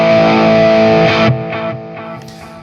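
A high-gain overdrive patch on a Nova System effects unit gives a loud, distorted guitar a sustained chord that breaks into a few choppy, decaying hits.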